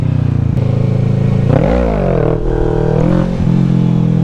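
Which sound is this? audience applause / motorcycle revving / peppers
motorcycle revving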